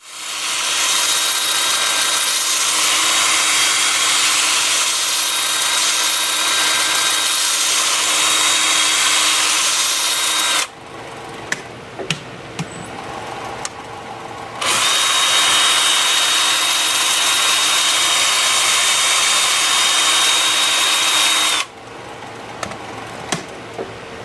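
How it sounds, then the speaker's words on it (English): A wooden bowl spins on a lathe at 360 RPM while 80-grit sandpaper is pressed against it, giving a loud steady whirring hiss that cuts out twice into quieter gaps with faint clicks before resuming. "I have the lathe spinning forward and reverse at 360 RPM. I'm starting at 80 grit"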